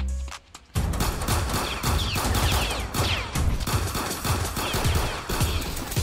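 Sustained rapid gunshots in a Roblox hood New York roleplay game, dense loud automatic-style fire running almost continuously after a brief quiet opening.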